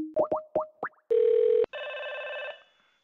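A telephone ring sounds loud and close: a quick run of rising electronic chirps, then a steady buzzing ring tone and a longer sustained tone that fades out, with no voices.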